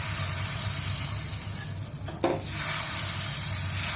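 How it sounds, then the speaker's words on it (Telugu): Thin instant dosa batter sizzling on a hot pan, a loud, steady hiss with a brief burst of spreading or scraping midway and a low hum beneath, no voices. "ఇప్పుడు మనం దోశ వేసుకుందాం"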